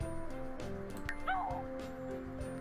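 A dog in The Sims 4 video game makes a few short yips and a whimpering whine over a soft game music bed. The sounds are clear and mid-level.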